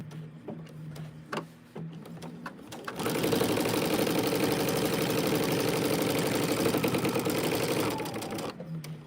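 Sewing machine straight stitching a quilt appliqué, a few short tapping stitches at first, then a steady, loud run of rapid needle chatter lasting about five seconds before stopping.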